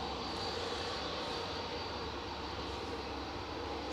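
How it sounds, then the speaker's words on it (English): An Etihad Boeing 787-10 arriving from Abu Dhabi crosses the runway threshold at Manchester Airport, its engines making a faint, steady distant roar that holds throughout. "Etihad's just coming over the threshold now."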